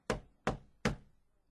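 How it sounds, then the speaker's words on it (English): Someone knocks on a door three times, with evenly spaced, sharp, close raps and quiet between them. "Someone knocked on Richard's door."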